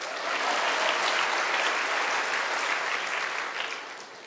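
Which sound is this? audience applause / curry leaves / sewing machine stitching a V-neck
audience applause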